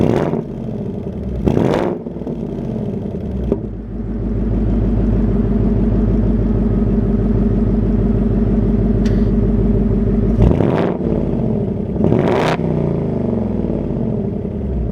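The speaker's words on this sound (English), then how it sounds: "V8 exhaust. I think you need to hear it." A 2026 Ford Mustang GT manual's V8 starts up and idles with a loud, throaty exhaust rumble, broken by a few sharp revs that roar up and settle back down.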